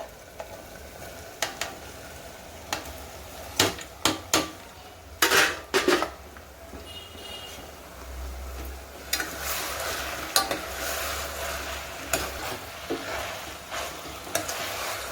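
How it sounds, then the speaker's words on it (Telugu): Tripe (boti) fries in oil in a pan with a steady close sizzle, broken by repeated sharp scrapes and clinks of a spoon stirring against the metal. "మంచిగా నూనెలో వేగనివ్వాలి."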